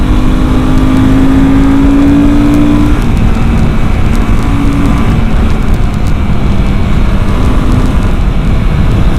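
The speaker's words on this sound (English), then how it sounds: "just hear this motorcycle go" Royal Enfield Himalayan 450 motorcycle engine under way, a steady loud drone with wind rush and a faint rising engine tone, continuous and close throughout.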